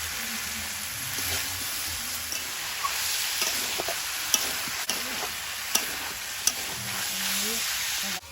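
Potato, papaya and chicken sizzle steadily in a frying pan with a little salt, with dense constant frying hiss and occasional clacks of stirring against the pan, no talk.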